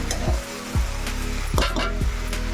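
Mixed vegetables frying in an onion-based masala tempering give a steady low sizzle, broken by a few soft clanks of stirring against the pan.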